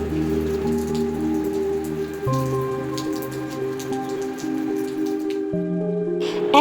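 Steady rain falls and drips at the seaside at Tajpur, a continuous wash of patter under sustained tonal background sounds.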